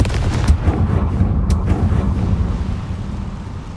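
Confringo blasting spell exploding in Hogwarts Legacy, a loud low rumbling blast with a couple of sharp cracks, the heavy roar sustained and slowly settling.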